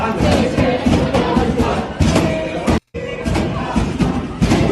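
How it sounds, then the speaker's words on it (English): Pro-Palestine protesters chant and pound on a library door at Cooper Union. A loud, dense crowd roar is punctuated by repeated heavy thuds, with a brief dropout partway through. "they're chanting free, free Palestine while banging on the door"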